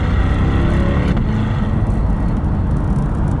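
A 2022 Chevrolet Corvette C8 accelerates hard, its engine a dense, loud, close rumble that holds steady throughout with no voices.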